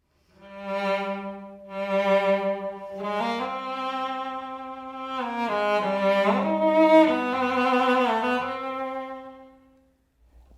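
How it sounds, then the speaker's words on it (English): Cello strings bowed with the horsehair of the bow in the traditional way, several long sustained notes in a rich, legato line, close and fairly loud with no talking. "the traditional way of playing the cello is to have the horsehair pointed down and to rub it across"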